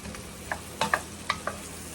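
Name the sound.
onions and vegetables cooking down in a pot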